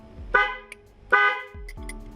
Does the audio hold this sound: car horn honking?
yes